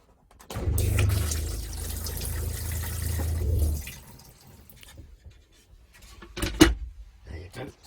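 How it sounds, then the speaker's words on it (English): A toilet flushes close by, a roaring gush of water for a few seconds that settles into a quieter refill trickle, followed by a few knocks. "I almost forgot about the toilet flush."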